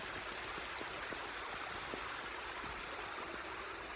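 A stream pours over a small waterfall in a steady, broadband rush, faint and continuous, with light splashes and gurgles breaking through and no voices.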